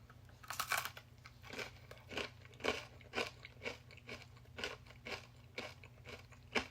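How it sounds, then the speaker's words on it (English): Close, crisp crunching as crusty pickle beer bread is chewed, a steady rhythm of bites about every half second, quiet and alone. "It's so crunchy."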